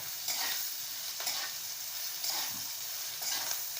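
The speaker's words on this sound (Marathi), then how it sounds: "मिरची कशी खमंग होती त्यामुळं थोडंसं मीठ टाकून दोन मिनटं चांगली अशी परतून घ्यायची भाजून घ्यायची" Green chillies and salt fried in a pan give off a steady, close sizzle, with stirring strokes scraping in about once a second.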